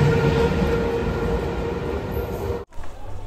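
A train rolls through Jiaganj railway station with a loud, steady rumble and clatter of wagons and a faint high tone, cutting off abruptly near the end into quieter station ambience.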